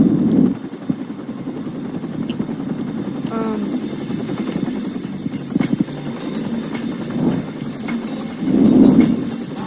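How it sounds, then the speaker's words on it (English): Helicopter in the Watch Dogs 2 video game, a steady whirring rotor drone running throughout at moderate loudness, swelling briefly near the end. "helicopter, because otherwise I can't"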